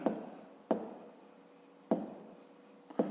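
Pen or pencil writing numbers on paper for a math exercise, with four sharp strokes and the scratch of the tip between them, close and quiet, no voice.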